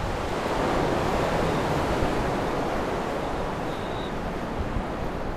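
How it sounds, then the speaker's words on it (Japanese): Strong crosswind roaring across the ears and microphone of a cyclist on a touring ride, a loud, dense, continuous rushing buffet with no pauses, close and steady throughout, no speech. "風が斜め前から来てるんですよ。 それでゴーゴー耳がうるさくて"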